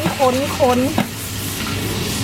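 Morning glory (water spinach) stir-fried in a hot pan gives off a steady, close sizzle and the scrape of stirring. A voice speaks briefly at the start, then the frying continues alone.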